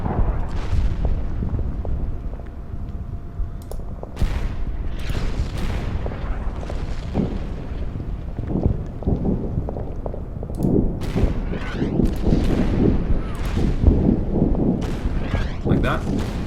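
Artillery barrages in the Order of Battle: Winter War strategy game, set at Tali-Ihantala, with repeated heavy booms and thuds rolling one after another under steady talk.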